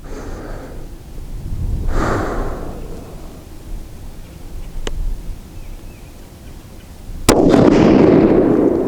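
Rifle shots during load testing with Hornady 168g Z-Max bullets on a TC Compass rifle, heard as two sharp, loud cracks several seconds apart outdoors, with breathing and handling noise between them.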